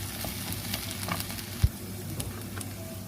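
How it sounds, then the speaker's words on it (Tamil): Onions and garlic sizzle steadily in oil in a pan for a Tamil broad bean gravy, with a soft continuous frying hiss and an occasional clink of a stirring spoon. "முதல் நான் வெங்காயத்தை போட்டு வதக்குறேன்"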